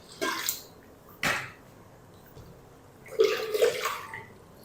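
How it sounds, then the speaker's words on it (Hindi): Water splashes and pours into a pot of chicken and spinach in a few short bursts, with a longer sloshing pour near the end, close by and fairly loud. "थोड़ा सा पानी शामिल करेंगे"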